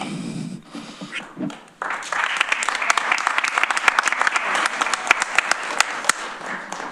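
An audience at a county legislature meeting breaks into clapping after a short stretch of quieter room sound, the applause rising quickly into dense, sustained hand claps from many people nearby.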